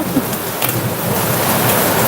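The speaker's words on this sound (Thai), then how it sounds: "เสียงฟ้าร้อง" Thunder rolls as a low, broad rumble under steady heavy rain, loud and continuous throughout with no clear single crack.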